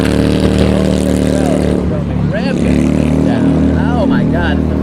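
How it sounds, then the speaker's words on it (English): A motorcycle engine drones past along a street, a steady low rumble under constant road noise with a loud car in the mix, while people talk over it. "Motorcycle."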